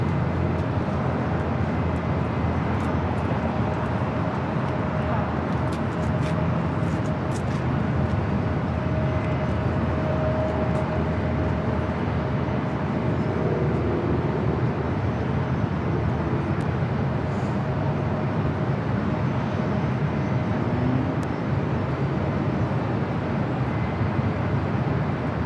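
Lufthansa Airbus A380 arriving at LAX from Munich, heard as a steady, broad jet roar that holds at an even level for the whole stretch, with no voices.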